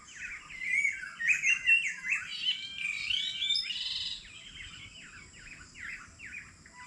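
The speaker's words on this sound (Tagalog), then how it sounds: "yan po ay yung ibon na kulay itim na nagsasalita" Many birds, including black talking birds, chirp and call in overlapping, busy bursts, some harsh and squawky, with a steady low rumble underneath.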